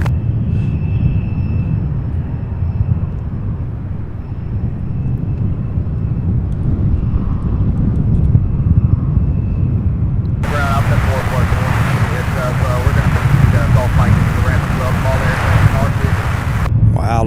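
Aircraft, likely a heavy UPS freighter at Louisville's SDF airport, taxiing toward the ramp with a steady broadband engine rumble and wind noise; a harsher, brighter jet roar joins midway and holds to the end.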